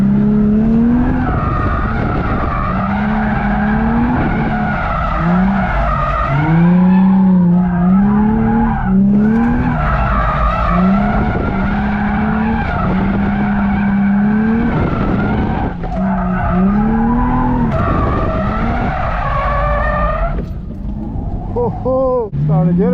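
A G35 sedan drifts at a practice track, loud tire squeal and skidding wailing in long sweeping bursts over a revving engine, close and sustained throughout.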